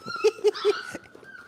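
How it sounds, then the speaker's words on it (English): Mini Goldendoodle puppies give three short, high whimpering yips in quick succession, close by and fairly loud, followed by softer fading whines. "I'm getting in with the puppies."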